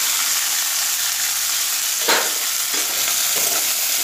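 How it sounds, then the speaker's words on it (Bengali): Chopped onion frying in hot oil in a wok, a steady loud sizzle throughout, with a few brief stirring scrapes breaking through the constant hiss. "এবার কড়াইতে যে তেল আছে সেই তেলের মধ্যে এবার আমি একটা পেঁয়াজ কুচি দিয়ে দিলাম।"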